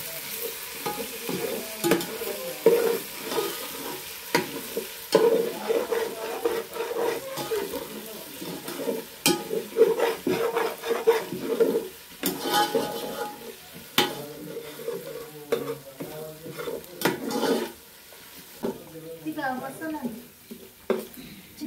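Chicken with spices frying and being stirred in a pan for a village feast, with repeated scraping stir strokes and a steady sizzle under intermittent nearby talk.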